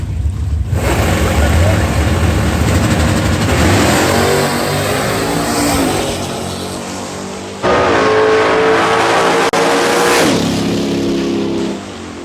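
Big block automatic SS Chevelle launching against a small block Ford at Lapeer International Dragway, drag racing final eliminations: a loud, close engine roar with hard revving, a brief dip near the middle, then a second surge of full-throttle acceleration.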